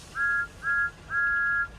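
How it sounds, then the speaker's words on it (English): Thomas the Tank Engine, a steam engine, sounds his whistle three times, two short toots then one long, clear blast over quiet background hiss. "Thomas, he blew his whistle."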